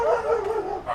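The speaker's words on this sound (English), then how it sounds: "there's a couple of mouthy attack dogs guarding the place" Mouthy guard dogs bark close by in a quick run of two or three loud, tonal barks with a whiny edge.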